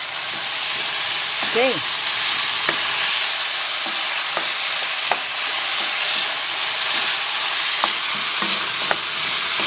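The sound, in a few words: shrimp frying in a pan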